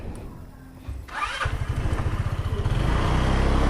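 A delivery rider's motorcycle engine kicks into life after a quiet moment, then settles into a rapid, throbbing putter that grows steadily louder and closer as it runs.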